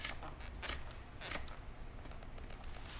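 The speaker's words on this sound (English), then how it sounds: "we'll finish up by tightening the magazine cap" Magazine cap of a Benelli Super Black Eagle 3 shotgun twisted tight by hand: a close, grinding creak of threads turning that rises in two stronger swells over a few seconds.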